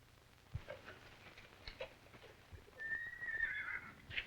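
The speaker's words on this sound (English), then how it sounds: "Chris, bring up a couple of horses" Horses in a 1944 Western film give faint, distant sounds, with soft thuds early on and a high, wavering whinny rising near the end.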